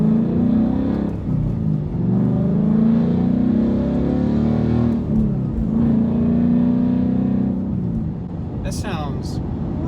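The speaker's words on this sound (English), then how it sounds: "No mufflers, straight pipe." A 2016 Ford Mustang GT Premium V8 with a straight-pipe exhaust and no mufflers idles loud and deep, a steady rumble with slight swells, while people talk nearby.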